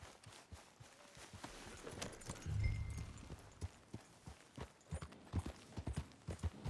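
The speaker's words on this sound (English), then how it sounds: "I'm getting the horse." A horse's hooves clip-clopping in a video game, a quiet rhythmic series of hoofbeats with a brief low rumble partway through, the steps growing more distinct and evenly spaced toward the end, with no talking.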